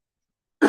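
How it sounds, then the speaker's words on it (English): A single short cough bursts out close and loud at the very end after silence. "y'all won't have to hear me coughing"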